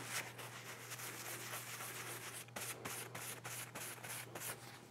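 A cloth wipes oil paint off a space-themed painting, making soft, continuous rubbing strokes that are faint and close, with a steady low hum behind them and no talking.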